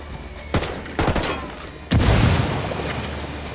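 A thrown frag grenade blasts in a video game, a sharp close boom after a couple of quick bangs, its rumble trailing off without talk.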